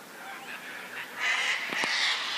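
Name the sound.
cockatoos fighting and roosters crowing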